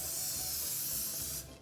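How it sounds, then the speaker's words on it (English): Baking spray hisses from a can into a Bundt pan in one continuous close burst that cuts off near the end. "I have a Bundt pan over here that I'm just gonna spray with baking spray"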